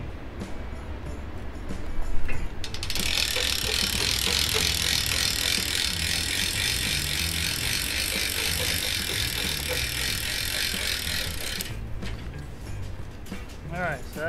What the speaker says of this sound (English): I got the forestay ready to hook on to the winch.